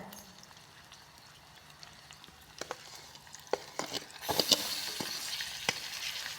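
Onion and raw mango sautéing in a pan for a village-style mango thokku, with a faint steady sizzle that swells louder midway, scattered with a few light stirring scrapes and clinks.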